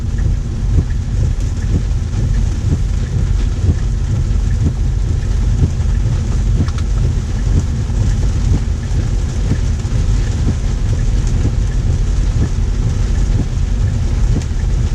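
Steady rain drums on the roof of a Tesla Model Y, a dense continuous patter with a low rumbling hum underneath, unbroken throughout.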